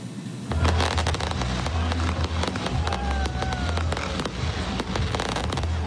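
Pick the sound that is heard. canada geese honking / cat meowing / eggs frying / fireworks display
fireworks display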